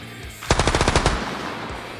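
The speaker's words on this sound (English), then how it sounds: "We're gonna try to shoot the next one too." A rapid automatic gunfire burst from the video game Cataclysm: Dark Days Ahead, about a dozen sharp shots in under a second, then a fading tail.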